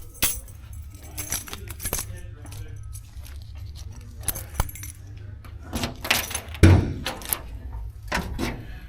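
Keys jangling near a 1970 Chevelle Malibu, a series of close, sharp metallic rattles and clinks in bursts, followed by a louder thump like the trunk lid being handled.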